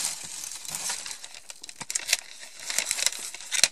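Gift package being unwrapped by hand, with close, loud paper crinkling and tearing in irregular bursts, rustling continuously with sharp crackles and no talk.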